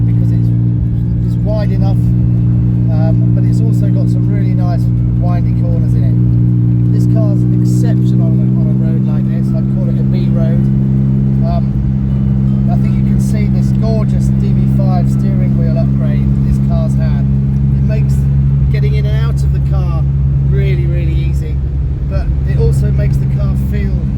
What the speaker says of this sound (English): So we're currently driving on our known test route.